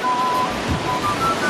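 Water pours steadily down the Cascada Los Vientos waterfall near San Alfonso, a constant broadband rush with no breaks, moderately loud and unbroken for the whole stretch.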